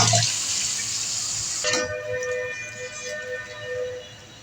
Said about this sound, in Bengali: দিয়ে দেবো টমেটো সস, দিয়ে দেবো পরিমাণ মতন জল